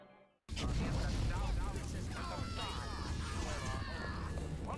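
A fire power sets enemies alight in Bioshock Remastered, bursting in after a brief quiet moment with a heavy boom and whooshing roar of flames that stays loud and dense, with crackling and clattering layered on top.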